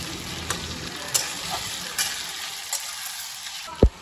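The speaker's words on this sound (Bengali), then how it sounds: "আদা বাটা দিয়ে অল্প একটু নাড়াচাড়া করবো।" Browned potatoes with ginger paste sizzle in a pan while a spatula scrapes and taps at a steady pace, ending in a louder clank; no talking.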